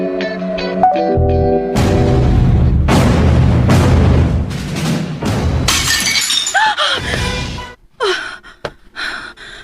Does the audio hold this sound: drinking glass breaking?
yes